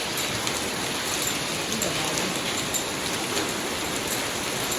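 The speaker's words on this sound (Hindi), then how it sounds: "बर्फ़ गिर रही है, देखिए ओले गिर रहे हैं" Hail patters down in a dense, steady hiss of small impacts, even and continuous, with no pause in the fall.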